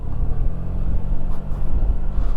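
Yamaha TMAX 2025 scooter engine giving a steady low, slightly raspy rumble at close range, continuous with no voices over it.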